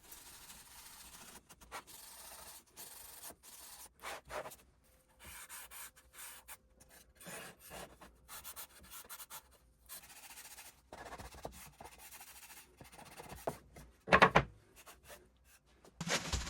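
Carnauba wax being rubbed onto a cherry wood organiser, soft close scrubbing strokes in irregular bursts with short pauses and a louder rustle near the end.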